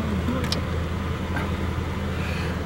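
An old car engine runs just after starting, a steady low rumble that continues evenly with no voices over it.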